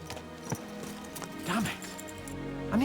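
Rhythmic hoofbeats of horses galloping in Kingdom Come: Deliverance, under background music and a talking voice.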